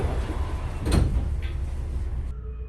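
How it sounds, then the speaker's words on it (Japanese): Train doors sliding shut on a local train at Takaoka station, a short whoosh and soft thud under steady train cabin hum, followed by quieter background. "発車時刻となり、扉が閉まります。"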